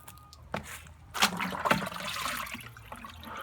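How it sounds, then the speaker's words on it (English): Duck-pond water is poured from a container onto potted plants outdoors, making a close, splashing gush that starts in spurts and then runs as a continuous wash of liquid, with no talk over it. "I'll go ahead and pour the duck water on all of them."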